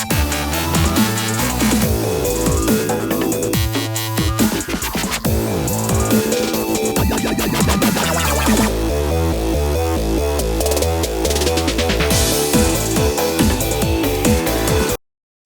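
A dubstep-influenced electronic track from the Super Monkey Ball Banana Mania soundtrack plays loud and dense throughout with heavy bass, wobbling synths and steady beats before cutting off abruptly at the end.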